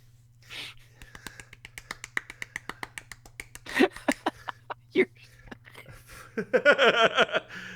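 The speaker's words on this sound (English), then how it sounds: "Golf clap." A sparse, restrained golf clap: a string of soft, crisp claps at an even, unhurried pace over a low steady hum, with a voice speaking briefly near the end.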